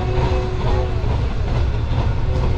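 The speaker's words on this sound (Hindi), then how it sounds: "बाबा फरीद एक्सप्रेस को कलांच वाला रेलवे स्टेशन के ऊपर ओवरटेक हो रहा" Green Line express train overtaking the Baba Farid Express at Kalanchwala railway station, a steady loud rumble of passing rail cars with faint clickety-clack running throughout.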